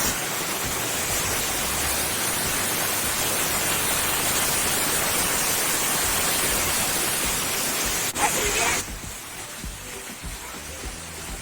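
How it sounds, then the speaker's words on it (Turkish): A waterfall pours down, heard up close as a loud, steady broadband rush that fills the whole span, then drops abruptly to a softer, more distant wash near the end. "Şu an şelalenin döküldüğü yerdeyiz."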